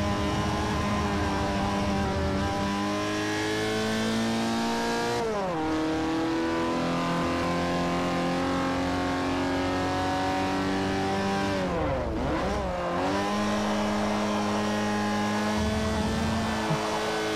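A race car in Forza Motorsport 4 holds a steady high engine whine while drifting, with two sharp dips in pitch as gears shift and tires squeal, loud and continuous throughout.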